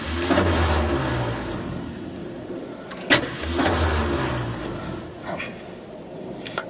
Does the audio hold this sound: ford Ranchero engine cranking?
yes